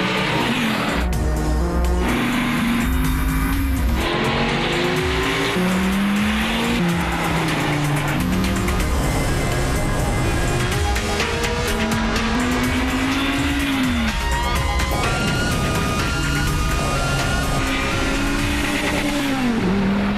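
A fifth-generation Dodge Viper races around Laguna Seca Raceway in California, its engine howling through repeated rising revs and gear changes with tire squeal, loud and continuous throughout.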